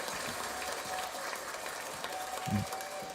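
A few podcast hosts clap along together, a steady patter of handclaps that is fairly close and continuous, ending in a slightly louder burst.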